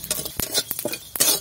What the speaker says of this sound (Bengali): আগে কটা আমি ধনে ভেজে নেব, ধনে জিরে, ধনে দিয়ে দেবো কটা জিরে, এটাকে আমি ভেজে নেব